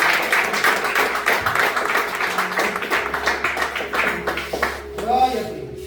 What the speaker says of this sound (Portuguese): As suas palmas louvam ao Senhor Jesus.